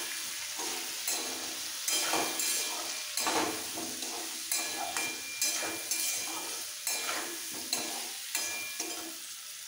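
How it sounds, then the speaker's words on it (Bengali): Potatoes and pointed gourd frying in a pan with turmeric powder as they are stirred: a continuous sizzle broken by regular scraping strokes roughly every second, close and fairly loud with no talking. "হলুদ পাউডার, একটু মিক্স করে ফেলবো।"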